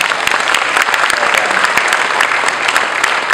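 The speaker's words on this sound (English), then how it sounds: "Let's give them a big round of applause and thank you." A big round of applause from the audience at a company town hall gathering, sharp individual claps audible within a steady, loud crowd clapping that continues throughout.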